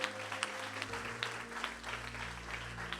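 A church congregation applauds in acclaim of the Lord, steady dense clapping from a crowd with a low hum running underneath, sustained evenly throughout.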